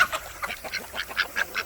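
Ducks at a chicken coop squabble over a water dish with a rapid run of close, nasal quacks and honks in quick bursts.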